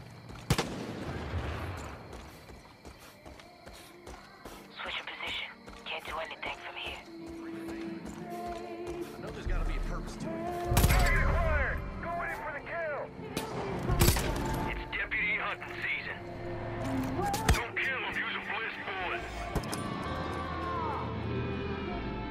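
Gunfire in the Far Cry 5 video game, with bursts of shots scattered through the clip, the loudest near the middle and later, over game music and effects.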